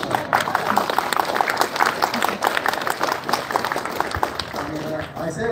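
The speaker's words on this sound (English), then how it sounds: "So you can give her a round of applause." A crowd applauds for a speaker's daughter at a gathering, dense and steady clapping mixed with scattered voices and chatter throughout.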